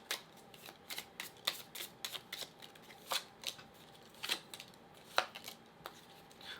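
Tarot cards shuffled by hand, with soft, irregular riffles and flicks repeating close by at a quiet level.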